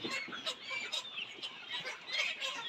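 Many 70-day-old layer pullets cluck and squawk together in a busy, overlapping chorus, fairly faint and continuous, as in a crowded poultry shed.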